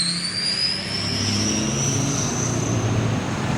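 Loud engine at a car meet with a supercharger whine sliding slowly upward in pitch, steady and close, sounding jet-like.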